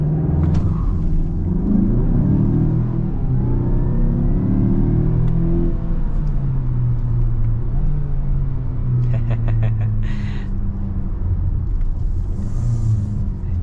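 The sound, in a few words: Mazda CX-5 SUV brake boosting, turbo spooling, accelerating from stop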